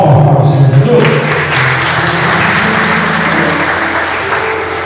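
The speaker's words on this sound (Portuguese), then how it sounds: "Vamos receber com as palmas para o Senhor Jesus?" Church congregation applauding a preacher at an OBPC service in Brazil, steady dense clapping throughout with sustained low tones from a band or organ underneath and some voices mixed in.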